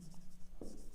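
Chalk or marker scratches on a board while a maths question is worked out, a faint close scraping stroke over a steady background hum.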